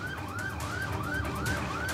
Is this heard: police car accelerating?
yes